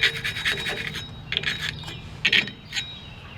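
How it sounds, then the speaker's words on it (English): Rear brake parts on a Ford F150 being scrubbed free of rust with a brush, giving rapid bursts of harsh scratching strokes in uneven groups, close up with short pauses between them and no talking. "I'm gonna clean up some rust."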